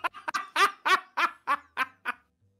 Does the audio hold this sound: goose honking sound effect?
yes